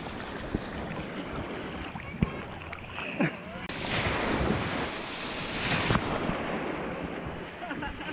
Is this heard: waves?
yes